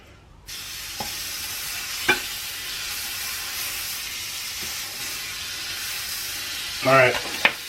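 Butter sizzles and fizzes steadily in a hot pan where steaks are cooking, a loud broadband hiss with a few sharp clinks and scrapes from utensils, no talking.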